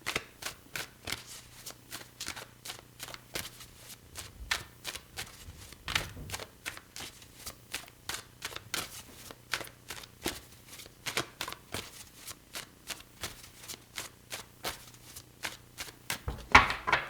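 Tarot cards are shuffled by hand in a quiet room, a quick run of crisp, evenly spaced riffling snaps repeating steadily and close by, with no talk over them.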